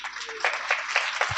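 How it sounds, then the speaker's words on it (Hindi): An audience claps at a Hindi poetry show held at a school, a light, fairly rhythmic series of hand claps at a moderate distance, with a low murmur of voices beneath. "थोड़ा सा मुझे लग रहा है कि आप थोड़ा सा थक गए ताली बजाते बजाते"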